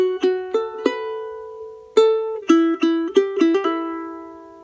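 Charango plays a melodic lead phrase, with plucked notes, hammer-ons and slurs ringing alone, a short run, a held note, then a quicker cluster of picked notes.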